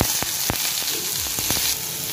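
Sliced onion frying in hot mustard oil in a kadai, a loud continuous sizzle close up with several sharp spatula taps and scrapes breaking through, no talking.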